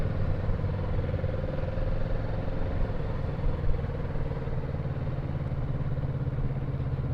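A motorcycle engine running at a steady, loud drone heard close up while riding, with a constant mechanical hum and no clear rise in revs, no talking.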